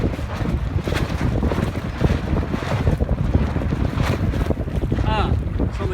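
Strong wind rushes past a sailboat under sail off Miura, a loud, continuous buffeting roar across the microphone with steady water and hull noise beneath.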